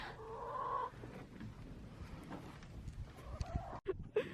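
Backyard chickens cluck and murmur close by, with a few louder squawks near the end among rustling and handling noises.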